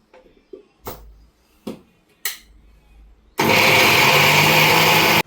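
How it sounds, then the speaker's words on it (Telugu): A mixer grinder blends tomatoes, coriander and mint, starting after a few sharp knocks and then running as a loud, continuous whirring roar for about two seconds with no talking. "దీన్ని కొంచెం మిక్సీ వేసేసుకుందాం"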